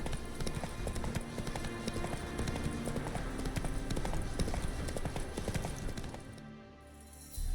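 The horse Roach clip-clops steadily through The Witcher 3 with a dense, continuous stream of hoofbeats, close and prominent over ambient game sound. The hoofbeats ease off near the end.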